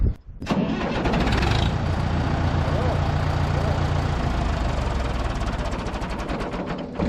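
A tractor engine on a run-down battery cranks steadily for several seconds at close range, a continuous grinding churn that does not catch, with faint voices underneath.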